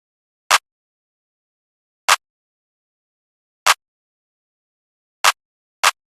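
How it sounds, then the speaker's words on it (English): A basic clap drum sample from a melodic trap beat, five sharp, isolated claps spaced about a second and a half apart, the last coming sooner, with silence between hits. "we just have this basic clap."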